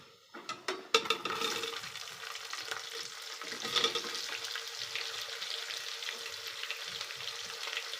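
Onions frying in a pot for homemade chicken biryani, a loud hiss bursting in after a few clattering knocks, then settling into a steady close sizzle with stirring, no voices.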